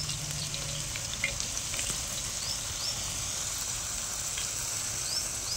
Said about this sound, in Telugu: అదిగోండి చూడండి ఎదుగుతున్నాయి నూనెలో.